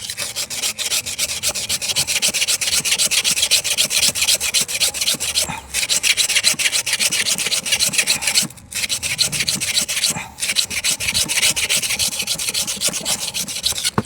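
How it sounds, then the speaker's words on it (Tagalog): Steady, continuous rasping of fine sandpaper rubbed on an electric fan part, loud and close, with brief pauses between strokes and no talking. "tirahin natin ngayon ng manipis na liha"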